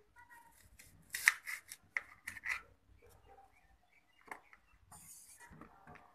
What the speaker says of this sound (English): Now I am making apple into small pieces.